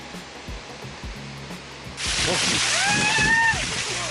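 Rushing water of a waterfall on the Tiger Leaping Gorge hike in China surges in loudly about halfway through, a steady broadband roar close by, with voices talking over it.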